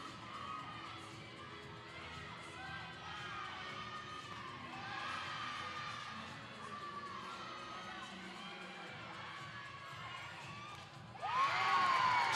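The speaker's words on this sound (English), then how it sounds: "Jessie gets the crowd to cheer for something here in Rec Hall" Crowd in Rec Hall at a Nebraska vs Penn State women's gymnastics meet, a sustained roar of cheering and children's shouts, swelling louder and sharper at the end.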